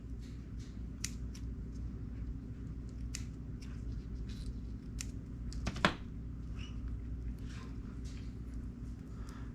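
Small scissors snip open a corn snake egg during a hatching, giving a few soft, close clicks and cuts over steady low background hum, with one sharper snip standing out.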